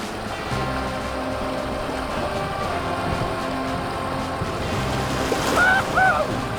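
Whitewater rapids on the Jacques Cartier River near Québec City roar steadily and loudly, a dense unbroken rush of churning water with a brief higher tonal cry rising over it near the end.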